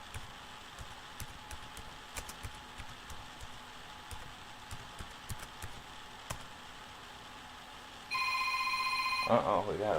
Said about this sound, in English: Uh-oh, we got a phone call here.